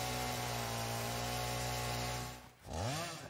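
Video game chainsaw chewing through materials, a loud steady droning whine that holds for over two seconds, then cuts off briefly and revs back up with a rising, wavering pitch.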